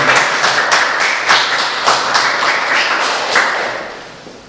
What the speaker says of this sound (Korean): 감사한 마음으로 박수 한번 올려드릴까요?